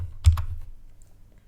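A quick pair of crisp computer keyboard keystrokes rings out close and clear, followed by quiet, as a command is typed.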